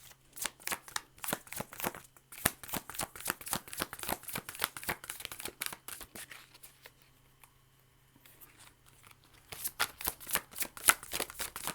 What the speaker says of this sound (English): it's really hard to shuffle these cards